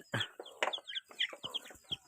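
Chickens cluck in a series of short, uneven calls close by in a village setting, with a few sharper squawks mixed in and no talking.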